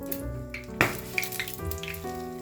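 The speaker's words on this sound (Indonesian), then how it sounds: "Sosisnya itu pas digoreng meledak teman-teman" Sausages fry in hot oil in a home kitchen, a close steady sizzle with sharp crackles and one sudden loud pop as a sausage bursts, with no talk.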